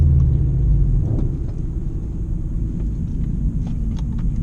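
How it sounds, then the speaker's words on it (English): A drag racing car launches off the line on an eighth-mile strip, giving a loud, steady low engine rumble that drones on without a break. "He spun off the launch there, it sounded like."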